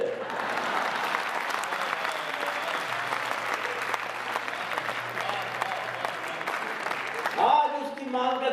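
Audience applause rings through a hall at a Hindi comic poetry recital, steady, full clapping from a large crowd lasting throughout, with a brief voice near the end.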